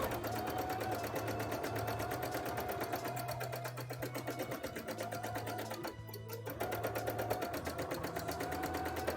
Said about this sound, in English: Have I run out of bobbin? That feels like I've run out of bobbin, yeah.